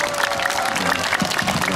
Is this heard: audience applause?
yes